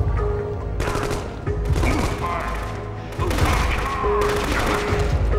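Gunfire in the Wii shooter The Conduit comes in rapid automatic bursts that repeat in clusters, with a sustained electronic tone and thumping impacts underneath. A narrator's voice runs faintly alongside.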